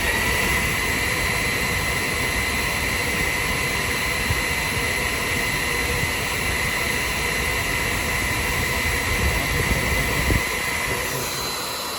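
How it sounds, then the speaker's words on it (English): A loud, steady hair dryer, used as a wind tunnel for diecast Formula 1 cars, blows with a constant whooshing roar and high motor whine, running uninterrupted throughout and easing slightly near the end. "we turn on the hairdryer"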